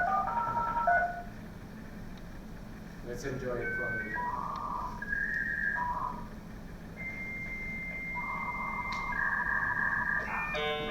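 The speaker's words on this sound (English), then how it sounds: "this was the sound of like connecting to the internet" A dial-up modem connects to the internet, with touch-tone dialing beeps followed by steady and warbling handshake tones over a hissy line, while a person speaks briefly.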